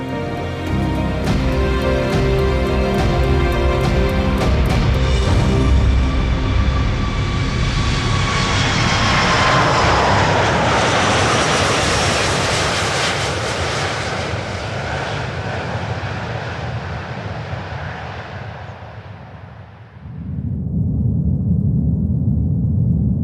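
Large four-engine airliner with Rolls-Royce engines, each giving 72,000 pounds of thrust, taking off: a loud, continuous jet roar with rising whine that builds, then sweeps and fades as it passes, followed by a steady low rumble near the end.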